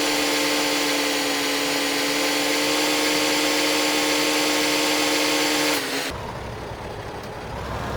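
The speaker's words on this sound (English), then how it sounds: "This tractor also sounds like a vacuum cleaner." A tractor engine in the farming video game Farming Simulator 15 drones with a loud, steady, high whine like a vacuum cleaner, then cuts off abruptly, leaving a lower rumble.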